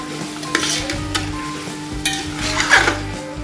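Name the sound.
mutton frying with onions in a pot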